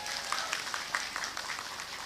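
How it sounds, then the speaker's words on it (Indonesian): An audience at an evening religious gathering celebrating the Muslimat anniversary gives a short round of applause, a dense patter of clapping that is fairly faint and carries no talk. "Tepuk tangan untuk muslimat."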